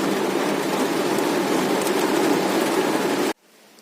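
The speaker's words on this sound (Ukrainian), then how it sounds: "За 5 годин вже другий раз паде дощ." Steady, loud rain falls continuously during a July beekeeping workday at an apiary, a dense hiss of drops that cuts off abruptly near the end, leaving near silence.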